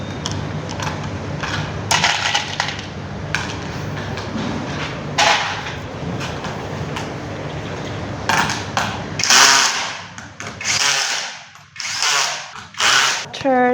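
A power driver whirs and ratchets as a special screw is driven in during assembly of a JK314 16 kWh battery, with loud mechanical clicks and tool bursts. Workshop clatter and knocks follow toward the end.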